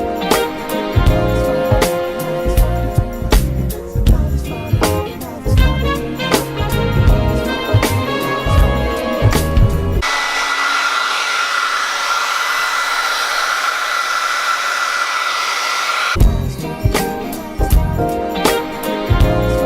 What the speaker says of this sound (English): we're gonna just heat up the adhesive